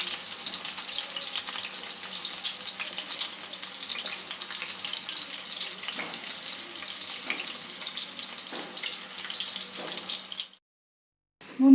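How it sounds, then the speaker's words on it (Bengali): Two pieces of chicken fry in a pan over a medium-low flame for sweet and sour chicken, giving a steady, bright, close sizzling hiss that runs unbroken and then cuts off abruptly near the end. "মিডিয়াম লো ফ্লেমে চিকেনটা একটু হালকা লালচে করে দু পিস ভেজে নিই।"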